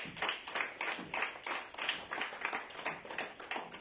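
A church congregation claps in a steady, rhythmic beat, many hands together at a moderate distance, forming a lively repeated pattern in acclamation of the Lord.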